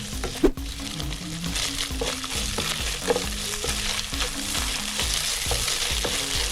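Chicken fries in olive oil for pancit canton, a steady sizzle under frequent clatter and scraping of a utensil against the pan, with a sharp knock near the start and no talking.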